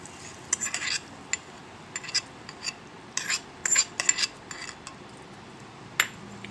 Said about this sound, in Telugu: ఇప్పుడు ఈ పచ్చట్లో పోపు వేసుకుందాం